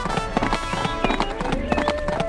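Horse hooves clip-clop in a steady, rhythmic trot in the Barbie Riding Club video game, close and fairly loud over background game music, with a voice talking throughout.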